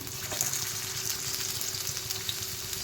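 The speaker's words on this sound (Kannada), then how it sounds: "ಒಗ್ಗರಣೆಗೆ ಈರುಳ್ಳಿ ಅದು ಚೆನ್ನಾಗಿ ಕೆಂಪಾಗಬೇಕು." Onions frying in hot oil in a pan for chilli chicken, a steady broad sizzle with faint clinks of stirring, close and continuous with no talking.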